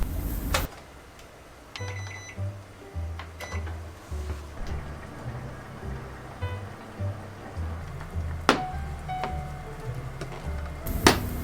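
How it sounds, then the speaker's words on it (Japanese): Leeks heat in a microwave oven, giving a soft steady hum with faint crackles and clicks; a low pulsing drone runs underneath and a few sharp knocks punctuate it at the start and end. "そして電子レンジで3分加熱します。"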